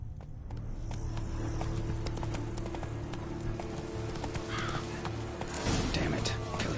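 Horse galloping in The Witcher 3 video game, rapid rhythmic hoofbeats pounding steadily throughout under a low ambient rumble, with a faint voice and brief clatter near the end.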